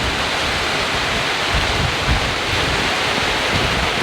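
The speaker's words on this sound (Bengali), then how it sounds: "আমাদের অঞ্চলে ধুম বৃষ্টি শুরু হয়েছে" Heavy rain driven by wind in a village at midday, a dense, loud and steady roar of falling water and gusts with no speech.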